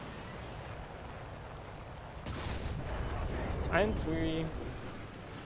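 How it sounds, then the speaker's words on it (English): War Thunder tank battle with a heavy gun blast and rumbling detonation of an enemy ammo rack, a low booming burst swelling mid-clip under a voice speaking over game audio. "detonate his ammo rack with a direct hit, which is nice"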